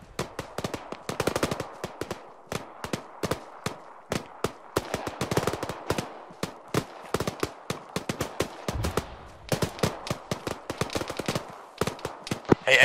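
Rapid bursts of gunfire in the Arma 3 military shooter, with many sharp shots in irregular clusters and short automatic strings, loud and close throughout with some more distant reports, no talk over it.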